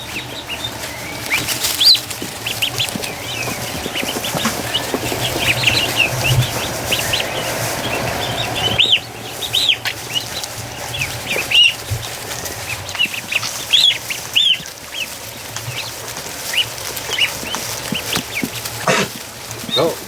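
Ducklings and a rescued gosling call from their pen at a duck camp, a busy stream of high peeping chirps with bursts of wing flapping and scuffling, close and continuous, with a little faint talk in places.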